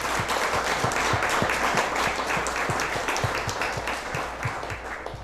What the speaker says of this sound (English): can we just give a big round of applause for just all the people that have filled the hostel